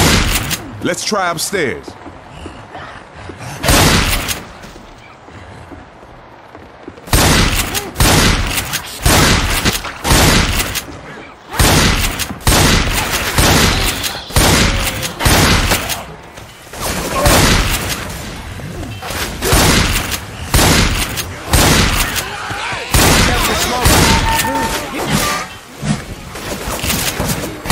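Heavy gunfire in the zombie shooter Left 4 Dead 2, during The Passing chapter: loud, dense bursts of rapid shots in repeated volleys, with short gaps between them, and a player talking over the shooting.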